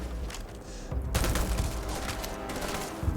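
Sustained rapid gunfire in the video game Starfield during a firefight, a dense burst of shots that sharpens after the first second and stays loud to the end.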